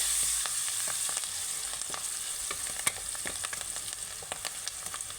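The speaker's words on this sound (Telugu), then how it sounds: "కలేమాకు వేసుకొని ఇలా కలుపుకోవాలి." Curry leaves stirred into hot oil in a frying pan, a steady close sizzle with many quick crackles and spatters, one sharp pop near the middle, no voices.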